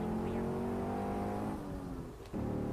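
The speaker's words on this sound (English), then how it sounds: "Listen to that engine purr." A car engine in Saints Row: The Third revs hard with a steady, rising mechanical drone, dipping briefly near the end before roaring back up.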